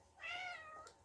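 A Minecraft cat gives one clear, close meow that swells and then tapers off, alone and with no talking over it.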